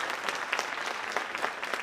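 A school band concert audience breaks into applause, a lively, fairly close patter of many clapping hands with uneven bursts, continuing steadily without speech.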